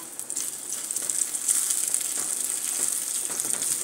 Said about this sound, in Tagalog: As you can see, nagbabubbles na siya.